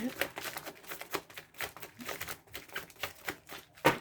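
Tarot cards being shuffled by hand, a run of quick papery riffles and soft slaps in an irregular rhythm, close and moderately quiet, with no talking.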